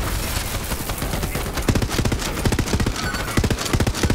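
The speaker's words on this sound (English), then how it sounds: "Lorelei, they are shooting at you, you doofus" Rapid enemy gunfire in the video game Borderlands 3, steady at first, then hard, dense bursts of shots from about halfway through, loud and close.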